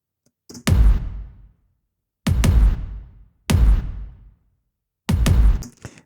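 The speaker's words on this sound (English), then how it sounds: "so both of them, of these kicks together, sound like this." Two layered kick drums processed with Slate Digital plugins hit four times, each a punchy thump with a short boomy tail, spaced irregularly with silence between, alone and close.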